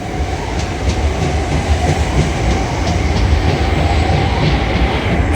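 Two coupled Class 375 electric trains depart London Bridge for Ramsgate via Canterbury West, a steady close rumble with clickety-clack wheel beats and faint squeal running throughout, no voices.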